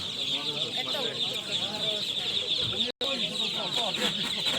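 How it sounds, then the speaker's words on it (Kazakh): A duck among poultry at a crowded livestock bazaar, with continuous clucking and fowl calls up close under market chatter and voices, broken by one brief gap. "Үйрек мынау."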